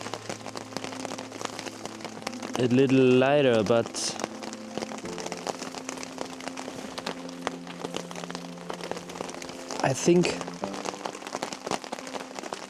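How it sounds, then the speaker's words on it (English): Rain patters steadily on a surface with dense crackling drops in Finland, while a person talks briefly in between. "It won't stop raining."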